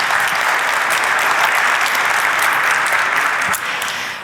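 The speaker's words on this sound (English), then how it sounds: "Migendt, your applause." A conference hall audience claps loudly and continuously, a dense wash of applause that fades slightly near the end.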